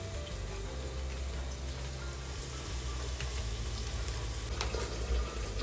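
Onion fries in a pan, producing a steady, dense sizzle and crackle that stays even and moderately close, with a few brief stirring clicks and no voices.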